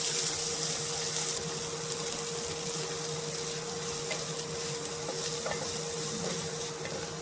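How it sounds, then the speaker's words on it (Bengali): Chopped onion frying in hot white oil with cumin in a pan, a steady close sizzle and hiss throughout with light stirring scrapes, no voices. "তো পেঁয়াজটা এখানে অল্প ভেজে নেব, এটা কিন্তু বেশি ভাজবো না।"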